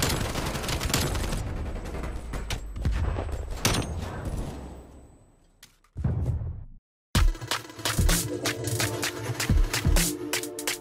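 Rapid gunfire from a Call of Duty: Black Ops Cold War match in competitive league play, dense bursts of automatic shots, a sudden drop into near silence, then loud sharp volleys resuming, all close and with no talk.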